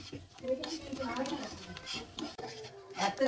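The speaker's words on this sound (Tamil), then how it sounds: "ஒரு சவுண்டு கேட்கலாமா? முருங்கைக்கீரை வசக்கிட்டே இருக்கும்." A ladle clinks and scrapes in a pan as drumstick leaves are stirred with turmeric, cumin and chili powder for a kooni fish fry. Irregular metallic taps and scrapes sound under ongoing talk.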